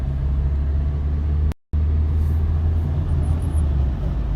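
A car gathering speed in second gear during a driving lesson: a steady low engine drone with road noise, briefly cut by a short silent gap before the rumble resumes at the same level.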